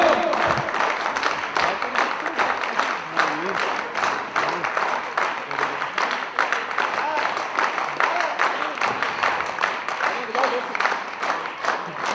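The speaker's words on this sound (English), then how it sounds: "Big claps for Kancho!" Audience applause at a Kyokushin karate belt ceremony in Pakistan, a continuous dense clapping from a crowd filling the whole stretch, with voices mixed in underneath.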